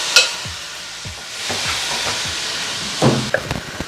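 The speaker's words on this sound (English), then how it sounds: "I'm adding all the beef." Ground beef frying in a pan for tacos, sizzling steadily with a constant hiss while a utensil scrapes and stirs it in several short strokes, close up with no talking.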